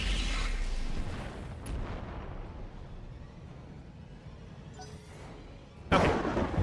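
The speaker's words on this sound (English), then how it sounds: "We're going to fire a regular guided bomb." A guided bomb strike in the mech combat game RogueTech: a loud boom opens, a low rumbling tail lingers behind it, and a second sharp impact lands near the end.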